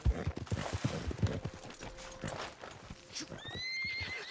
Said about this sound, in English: He's a really good horse.